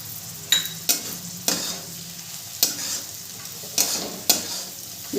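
Flattened rice pulao with Maggi masala stirred in a frying pan, a spatula scraping and tapping the pan in sharp, irregular strokes over a low steady sizzle.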